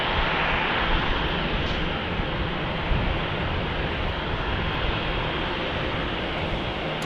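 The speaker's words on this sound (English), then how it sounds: "We've got Southwest arriving. (737-700) from Chicago Midway." Southwest Boeing 737-700 jet from Chicago Midway arriving at Salt Lake City airport, a steady broadband engine roar with wind-like rush that holds loud and even throughout, with no voices.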